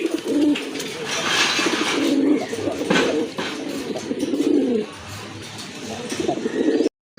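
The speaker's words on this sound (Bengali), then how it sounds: "গোলাপ ঝুটির কবুতর, গোলাপি ঠোঁটের কবুতর" A pair of fancy Bombay pigeons coo repeatedly close by, with deep, throaty rolling calls in bursts and brief pauses between them.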